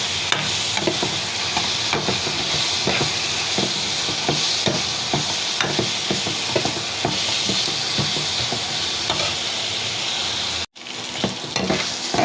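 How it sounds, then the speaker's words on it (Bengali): Onion, ginger, garlic, cinnamon, bay leaf and cumin fry in oil in a pan, a steady close sizzle broken by frequent scraping stirs, with a brief sharp dropout near the end before the frying resumes. "পেঁয়াজের সাথে আদা রসুন দারচিনি তেজপাতা জিরা সব কিছুই ভাজা করে নিব।"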